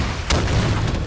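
Rocket blast in the Halo 5 arena shooter: a single loud booming explosion strikes about a third of the way in, followed by a rumbling low tail and continuous game noise.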